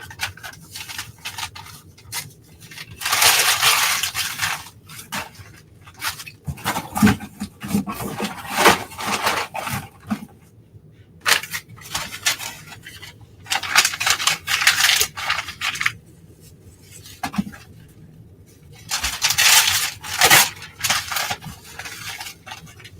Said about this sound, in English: I can just sit here and crumple paper for an hour